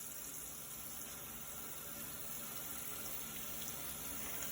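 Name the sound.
hands in running water at sink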